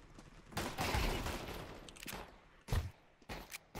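Gunfire in Counter-Strike 2 comes as several sharp bursts of rapid shots, one long loud volley followed by shorter clustered cracks, heard up close with no talk.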